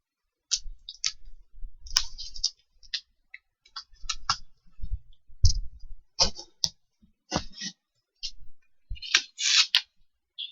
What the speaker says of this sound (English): I'm trying to cut.